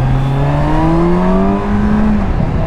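Kawasaki Versys motorcycle engine revving up to its 8,000 rpm limiter, a loud, close, steady whine that climbs in pitch and then holds, with no voices.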